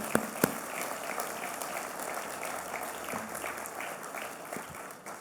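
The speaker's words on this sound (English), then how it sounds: "let's give them a round of applause too for what they did" Applause from the crowd at a groundbreaking ceremony for an electric vehicle battery factory, light and fairly faint, with scattered individual claps and a couple of sharper claps near the start.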